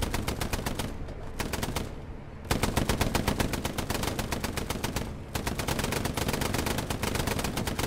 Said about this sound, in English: Gunner, kill everyone in front of here. Machine gun him.